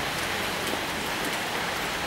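Steady rain falling on a surface in Santa Cruz de Tenerife, Canary Islands, a dense continuous hiss of droplets with no pauses or voices.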